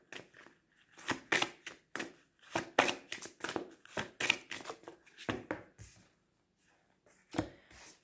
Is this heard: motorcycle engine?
no